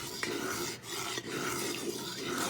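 A roux for gumbo is stirred in a pot, producing a continuous close rasping scrape with brief pauses as the spoon changes direction.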